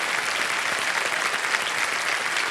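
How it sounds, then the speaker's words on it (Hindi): Dense, sustained audience applause on the Indian quiz show KBC (Kaun Banega Crorepati), a steady roar of many hands clapping at even loudness throughout. "तालियां बजती रहें और शोर मचता रहे इनके नाम पर"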